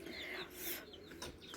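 Chickens at a coop cluck faintly from a short distance, a few soft calls over quiet background noise.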